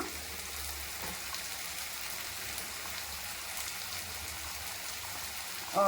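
Cooking water drains off boiled vegetables for pav bhaji, a soft, continuous splashing trickle of liquid that stays faint and even throughout.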